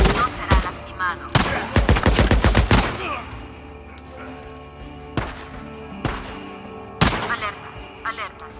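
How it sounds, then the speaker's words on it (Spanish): Rapid bursts of gunfire in the video game Days Gone crackle in a dense volley, then pause and return as scattered single loud shots over faint background noise. "Se hicieron múltiples disparos."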